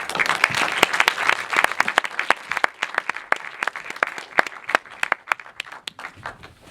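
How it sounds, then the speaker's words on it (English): Applause from a film festival audience greeting the director after a UK premiere screening, dense and sustained with sharp individual claps standing out across the whole stretch, fairly close and steady in loudness. "please give a round of applause to Charlie Targett-Adams"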